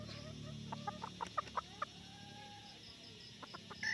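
Kearney Whitehackle gamefowl hen clucking in a short run of quick, clear clucks that trail off, with a few more toward the end over a low farmyard hum.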